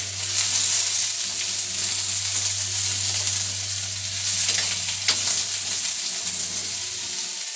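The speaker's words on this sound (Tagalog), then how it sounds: "habang ginigisa po natin ang sayote" Chayote sautés in a pan for a fish soup, producing a continuous bright sizzle with occasional stirring scrapes over a steady low hum, with no talking.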